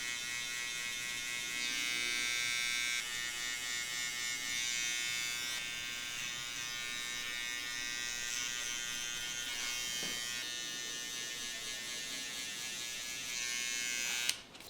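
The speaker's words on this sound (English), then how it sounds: "I'm just gonna knock out with my trimmer straight up to that line." An electric hair trimmer buzzes steadily and close up, its pitch shifting slightly as it moves, then clicks off at the end.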